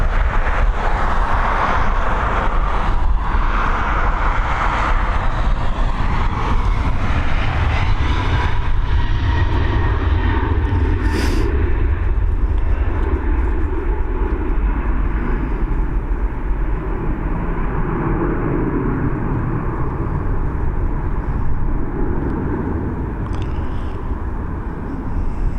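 Jet airliner on flight EI101 to New York departs Dublin Airport with a loud, sustained engine roar that fills the whole stretch and slowly thins as the aircraft climbs away.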